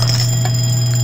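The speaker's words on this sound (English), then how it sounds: "Oh, okay, that timer's done." A bright electronic timer ding from the Papa's Freezeria video game, a single sustained chime ringing clearly over a steady low game hum.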